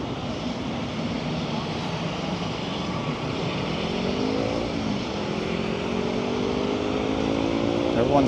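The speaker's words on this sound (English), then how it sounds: "You got Aer Lingus. It's extremely loud." An Aer Lingus airliner roars loudly at Los Angeles airport, a steady jet drone with rising and falling tonal whine, heard from close by with a voice speaking over it.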